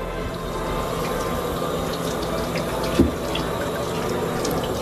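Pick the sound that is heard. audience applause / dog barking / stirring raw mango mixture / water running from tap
water running from tap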